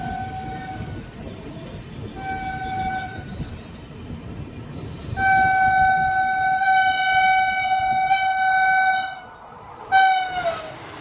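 A Madurai–Tambaram Mahal express train runs along with its loud wheel and carriage rumble underneath, while a tonal horn sounds in short toots at first, then blares in a long sustained blast, then ends with a final brief toot.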